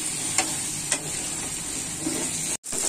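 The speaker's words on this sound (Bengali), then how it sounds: "আলুটা ভাজা হোক।" Salted, turmeric-dusted potatoes sizzle steadily in a pan, close by, with a few light scrape or tap accents and a brief dropout near the end.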